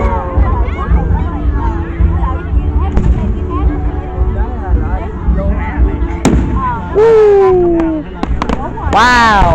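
A Fourth of July fireworks show in Cape Carteret, North Carolina, with repeated booms and crackling bursts at varying distances, a whistling rocket near the end, and a crowd talking and exclaiming throughout.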